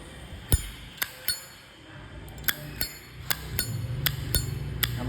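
Zippo lighter clicking and clinking, a series of sharp metallic snaps of the lid and flint wheel at irregular intervals, close and fairly quiet with no talk.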